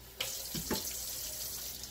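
Tap water runs into a pan being filled to soak a whetstone from a cheap sharpening kit, a steady close hissing splash with a couple of brief clunks near the start.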